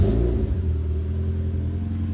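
A car engine revs loud and close, then settles into a deep, steady rumble, heard alone with no talking.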